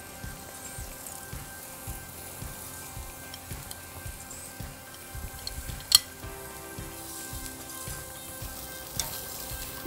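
Lamb skewers sizzle quietly in oil on a barbecue, with a soft steady frying hiss under faint regular ticking and occasional light metallic clinks.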